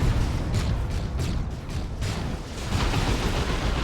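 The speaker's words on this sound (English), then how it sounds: "That was an incendiary grenade from the operatives" An incendiary grenade bursts in the real-time strategy game Warhammer 40,000: Dawn of War 2, amid a dense, loud rumble of battle effects with repeated booming impacts and a continuous low roar.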